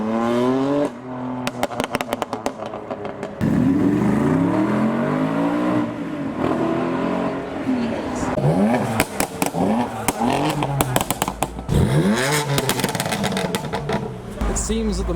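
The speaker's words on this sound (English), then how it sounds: "Gathered to watch all the cars depart the show." Several cars rev and accelerate away one after another leaving a large car meet, engines rising and falling with occasional loud bursts and background crowd chatter.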